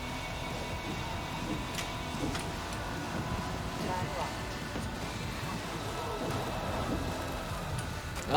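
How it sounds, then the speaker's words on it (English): Rain falls steadily on a road in the racing game Forza Horizon 5 with game audio mixed in, a continuous hiss and patter at moderate level throughout, with a few sharper drips. "it is raining, so we are facing some difficulties"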